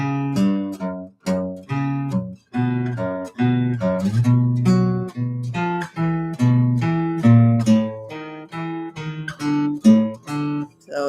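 Fingerstyle guitar plays plucked three-note chords with a moving low bass line underneath, steady rhythmic strums and runs continuing without any talking.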